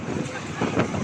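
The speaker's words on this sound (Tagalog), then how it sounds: "Grabe lakas ng hangin." Strong typhoon wind buffets the microphone in a steady, rushing roar with gusty swells, loud and close throughout.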